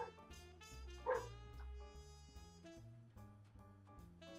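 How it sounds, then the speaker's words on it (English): A dog barks once with a sharp yip in the background, faint and brief against a steady bed of music. "That's my dog in the background"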